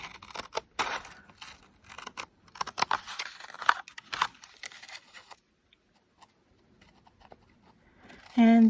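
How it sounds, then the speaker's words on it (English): Scissors snipping through card stock along pencil lines for a lattice card, a run of short crisp cuts and paper rustles over about five seconds, followed by near silence and a brief final sound. "So I'm just going to cut this with scissors right on my pencil lines."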